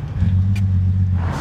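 A school bus pulls away at the start of a morning on a road trip across the United States, its engine rumbling steadily and close by for about a second and a half with no talk over it.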